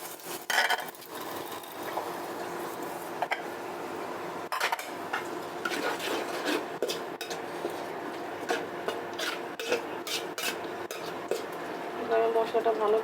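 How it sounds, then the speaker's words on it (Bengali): A spice paste for chicken curry is stir-fried in a pan with a splash of water, giving spatula clatter and scraping against metal over a faint sizzle, with occasional talk in the background. "আমি মশলাটা ভালো করে কষিয়ে নেব।"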